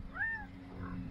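An injured, limping cat gives a short, faint meow-like cry, a thin rising-falling call over a low background rumble.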